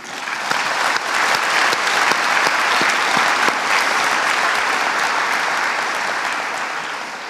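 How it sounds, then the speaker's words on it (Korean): A large audience at a Korean War anniversary ceremony applauds veterans and bereaved families, steady sustained clapping throughout that swells early and then slowly fades toward the end. "함께 박수 한번 드리겠습니다."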